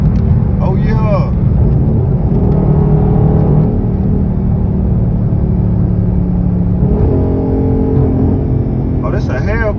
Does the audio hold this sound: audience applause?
no